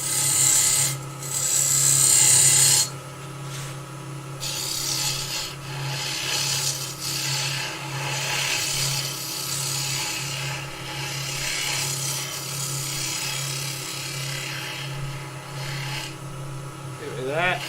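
A skew chisel cuts wood spinning on a lathe, giving a continuous rasping, scraping cut over the steady hum of the motor, with an initial loud hiss and pulsing bursts as the tool engages and eases off.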